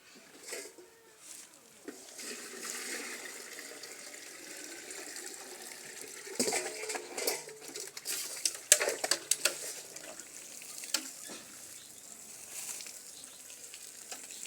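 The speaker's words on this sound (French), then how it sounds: "Très rapidement, après avoir fait cela, nous allons arroser notre planche." Water is poured over a plant nursery bed, producing an irregular splashing patter that starts faint, grows louder and busier in the middle, then settles into a steadier trickle, with no voices.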